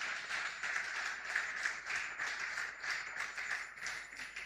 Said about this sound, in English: Another round of applause to her